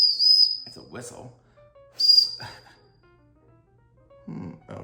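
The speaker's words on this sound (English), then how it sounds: "It's a whistle." The small whistle of a tactical survival multitool gives two short, shrill blasts about two seconds apart, close and fairly quiet, with brief low murmurs and handling noise between them.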